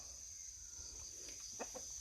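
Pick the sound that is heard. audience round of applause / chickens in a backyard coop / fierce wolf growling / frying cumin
chickens in a backyard coop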